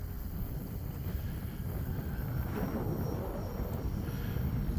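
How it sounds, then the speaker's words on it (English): A small E-flite Habu SS 50mm electric ducted-fan jet flies through strong wind, its faint whine nearly buried under steady, loud wind buffeting on the microphone throughout. "Not the best weather for trying to fly a little EDF jet"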